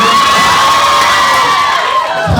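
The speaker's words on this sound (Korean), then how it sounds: "시작부터 이렇게 뜨겁게 환호해 주셔서" A live audience cheers and whoops loudly at the start of a Korean comedy show, a dense, sustained crowd roar with high shouts running steadily throughout.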